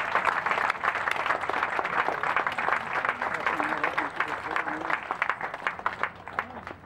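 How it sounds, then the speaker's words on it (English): A crowd at a Gardena veterans ceremony gives a sustained round of applause for veterans coming forward, steady dense clapping with voices mixed in throughout. "Please come and give them a big round of applause while they are coming forward"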